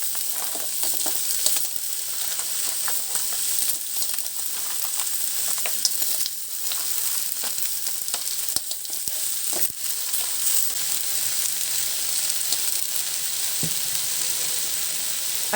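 Sapay shellfish hitting hot oil with frying spices for ginataang sapay sizzle in a steady, dense hiss, with faint stirring clicks and scrapes now and then and no talking.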